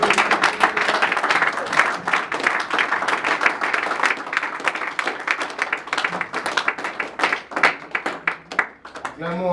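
A church congregation at a Sunday worship service claps steadily in a dense, loud burst of applause. A voice speaks over it and cheers come from the crowd as the clapping thins toward the end.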